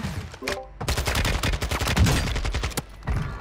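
Rapid gunfire from a shooter video game, bursts of sharp shots cracking in quick succession, loud and close, with a brief pause before the firing resumes.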